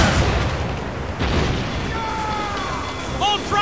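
Heavy ship cannon fire in the Assassin's Creed Rogue naval battle game, deep booming blasts amid a noisy battle din, with shouting crew voices and whistling projectiles.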